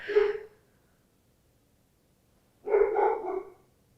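A dog barks twice, a single yelp and then a brief double bark, separated by a few seconds of silence, moderately close.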